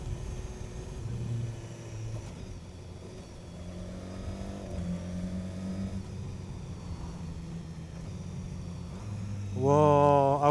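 A 2016 BMW S1000 XR motorcycle with the full 160 hp output accelerates, its engine droning and climbing through the revs, then surging into a loud, rising roar near the end.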